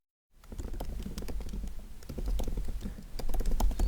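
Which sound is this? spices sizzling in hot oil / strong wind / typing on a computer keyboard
typing on a computer keyboard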